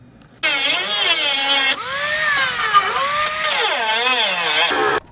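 A power drill boring holes through a utility trailer's welded steel frame whines loudly and steadily, its pitch sagging and rising as the bit bites in, across three long continuous bursts with no talking.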